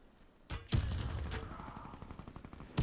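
Gunfire rings out in a shooter video game featuring the Desert Tech MDRX, as a loud burst of rapid automatic shots with sharp reports and rumbling echo, followed by another shot near the end.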